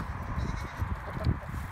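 A goat bleats on a farm, a few short wavering calls at moderate distance over a steady outdoor background.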